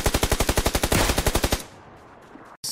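Rapid automatic burst fire from a gun in the battle royale game PUBG, roughly fifteen evenly spaced loud shots lasting about a second and a half, followed by quieter game ambience.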